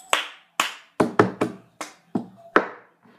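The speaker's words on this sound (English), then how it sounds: "Clap, clap, hit, clap, move over." Sharp individual hand claps and hand slaps on a surface in the cup song rhythm, about nine crisp strikes spaced irregularly, close and distinct against near silence.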